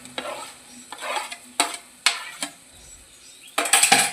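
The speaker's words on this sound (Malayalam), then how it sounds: "റവ ഇടുമ്പോൾ അങ്ങനെ ഇളക്കിക്കൊണ്ട് വെക്കണം കേട്ടോ" Semolina kesari is stirred in a pan with a spoon, producing several distinct scraping strokes at close range, some quick and some drawn out, with a faint sizzle underneath.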